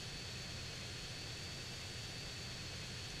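A jet aircraft flies in GTA San Andreas, its engine a constant, fairly faint roar that holds steady without change.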